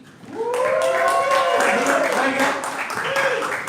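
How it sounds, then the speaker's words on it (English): A live studio audience applauds and cheers steadily as host Willie Shackleton is brought out, a continuous wash of clapping over which a voice speaks. "Please give a big round of applause to Willie Shackleton."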